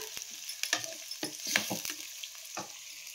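Onions fry on a medium flame with a soft, close sizzle. Scattered scrapes and taps come from a spatula stirring the pan, fairly quiet, with no voices.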